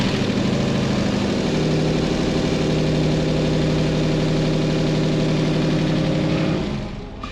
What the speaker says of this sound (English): I think you may have an exhaust leak,